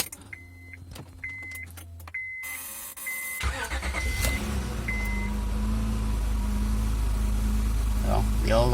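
A car under restoration has its engine cranked and started after a short series of chimes and clicks, then settles into a steady low idle rumble close by, with a voice speaking briefly over it.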